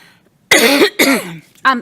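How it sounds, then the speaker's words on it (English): A series of loud, close coughs in quick succession, three harsh bursts with short gaps between them. "I'm sorry, I just got this coughing fit."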